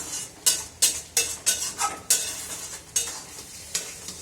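Semolina boiling thick in a pan and spattering as it bubbles, heard as a close series of sharp pops and bursts roughly every third of a second, each fading quickly, with no talk.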